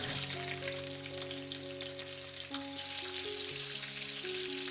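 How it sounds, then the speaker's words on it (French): Shrimp frying in hot oil with garlic and ginger, a dense continuous sizzle and crackle heard close and steady under a soft background tune, no voices. "Quand l'huile est chaude, mettre les crevettes."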